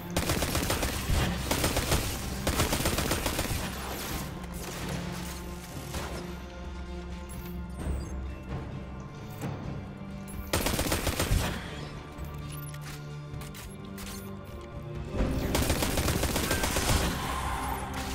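Gunfire in the video game Destiny 2, with dense bursts of rapid automatic shots, crashing impacts and explosions over a steady game score, loud and continuous, with a brief lull in the middle and no speech.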